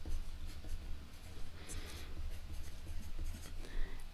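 An erasable pen writes a title in big letters on paper, making quiet, steady scratching strokes with a few brief taps, and no one speaks.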